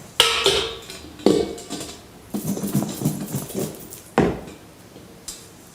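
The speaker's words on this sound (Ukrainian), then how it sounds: "Висипаємо капусту та перемішуємо" Cauliflower being mixed into a batter of milk, flour, salt and paprika in a bowl, giving irregular wet clatter and scraping with a few sharper knocks of the utensil against the bowl, close and without talk.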